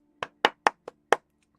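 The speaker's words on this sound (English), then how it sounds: "clap hands, clap hands, clap hands" Hands clapping five times in a quick, slightly uneven rhythm, sharp and close, with a low hum beneath and no voices.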